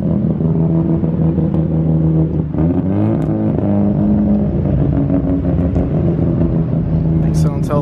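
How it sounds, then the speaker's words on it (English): A Mazda RX-8 accelerates away during street action, with a loud, steady engine roar and rising rev tones amid crowd noise and other cars, along with some voices nearby. "Dang, that RX-8 is just shooting away"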